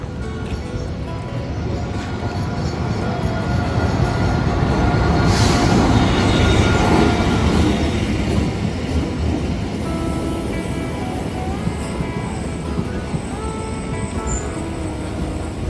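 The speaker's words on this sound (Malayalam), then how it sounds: "ഒരു ട്രെയിനൊക്കെ വരുന്നു" A train pulls into a station with a steady, broadband rumble of wheels and carriages that swells loudest midway through, then settles into a continuous clattering roll.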